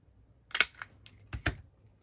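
Scissors snip through paper while cutting out a faux front envelope with a 1-inch guide, giving a few short crisp cuts close by in a quiet room, with no talking.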